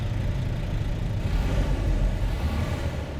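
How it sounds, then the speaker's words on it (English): Volvo VNL 860 truck engine in American Truck Simulator, a steady deep drone of the big tractor pulling uphill under load, loud and continuous throughout with no talk. "And there's that engine."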